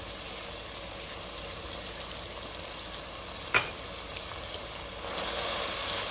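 Potatoes tipped into a pan of cooked ground beef for a Ghana meat pie filling: a quiet, steady sizzle with a single soft clunk midway, then the frying noise swells slightly toward the end.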